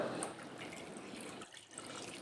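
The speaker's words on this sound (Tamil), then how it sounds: "பாசிப்பருப்பை ஒரு அரை மணி நேரம் ஊற வச்சு எடுத்து வச்சுருந்தேங்க இப்போ அதில் தண்ணி ஊற்றிக்கலாம்" Water poured into a bowl of moong dal that has soaked for half an hour, a steady close splashing and trickling pour with no talk.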